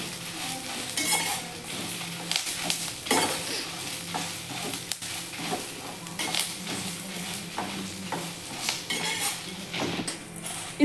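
Curry leaves frying and being stirred in a pan for vangibath spice powder, with steady scraping and clinking of a spoon against the pan over a soft sizzle, continuous and close.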